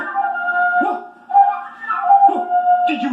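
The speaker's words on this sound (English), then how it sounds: "that was just Gordon playing his flute" Gordon plays a flute in a soft, airy melody of sustained notes with short gaps between phrases, heard fairly close and with no one talking over it.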